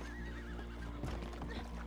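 A horse in the video game Red Dead whinnies with a wavering, quavering neigh, followed by a few hoof clops over a steady background hum.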